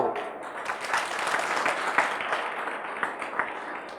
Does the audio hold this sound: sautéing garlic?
no